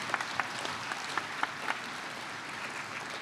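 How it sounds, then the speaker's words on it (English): Audience at a youth conference breaks into steady applause, a dense wash of many hands clapping together at moderate volume, with a few sharper individual claps standing out near the start. "Let's give a nice round of applause"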